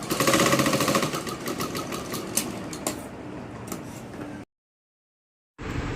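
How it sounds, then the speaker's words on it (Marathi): A sewing machine stitches piping onto a blouse with a fast, steady mechanical chatter up close, easing slightly, stopping for about a second of silence, then starting again. "पायपिंग करायला थोडीशी आपल्याला हलकीशी खेचून घ्यायची आहे"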